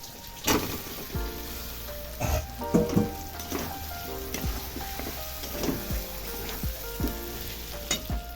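Fried potatoes go into mutton kosha masala in a pot, a soft crackling sizzle broken by irregular clinks and knocks of a spoon against the pan, close and without voices.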